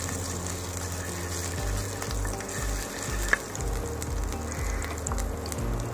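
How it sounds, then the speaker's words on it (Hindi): Chopped garlic and ginger sweat in oil in a pan for veg Manchurian, giving a steady close sizzle with a few stirring scrapes and one brief clink. "अंदर हम डालेंगे चॉप गार्लिक, चॉप जिंजर और इसको हल्का सा स्वेट करेंगे।"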